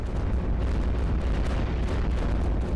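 Dense, continuous barrage of cannon booms and explosions from the tower-defense game iBomber Defense, set in a Germany level with level 3 cannons firing at planes; loud, layered blasts with no pauses and no talk.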